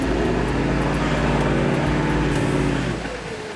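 A 4WD towing a heavy camper trailer labours in soft sand on a steep hill in Cape York, its engine droning loud and steady up close, then easing off near the end.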